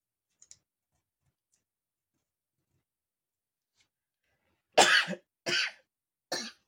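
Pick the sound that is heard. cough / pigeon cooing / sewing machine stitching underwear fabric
cough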